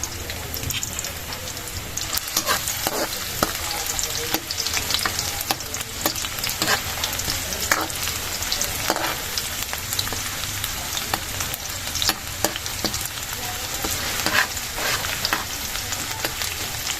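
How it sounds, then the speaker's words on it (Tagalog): Aromatics for pork giniling with potatoes and carrots sizzle and crackle steadily in hot cooking oil, with occasional stirring scrapes, a close, continuous frying sound without pauses. "tayo po nagpapainit ng mantika at ilalagay na po natin itong ating ricado"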